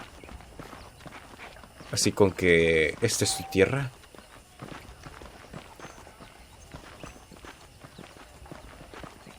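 Horse hooves clip-clop at a steady walking rhythm while riding in the video game Red Dead Redemption, continuing through the whole stretch beneath a brief spoken exchange near the start.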